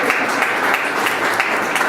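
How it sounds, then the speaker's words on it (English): A forum audience gives a short burst of dense, steady applause that fills the room at close range. "It's the best applause I get at every event."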